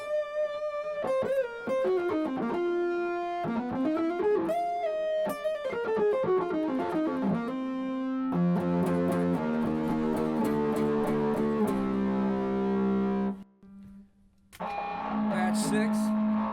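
An electric guitar runs through a Zoom G5n patch with chorus, delay and distortion, playing sustained melodic notes and then thick held chords with a long tail. It is loud and upfront and stops briefly near the end.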